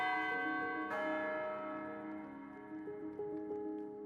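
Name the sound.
bell tower bell ringing in Minecraft video game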